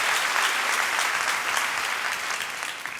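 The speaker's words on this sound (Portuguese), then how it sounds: "vamos dar uma salva de palmas ao Senhor" A church congregation claps together in a dense, even burst of applause that fills the room, holding steady before easing slightly at the end.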